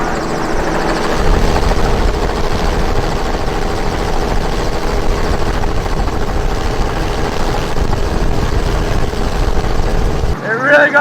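A helicopter in flight carries loud, continuous rotor thumping and engine roar throughout, steady and close, with talk faintly underneath and a brief cut near the end.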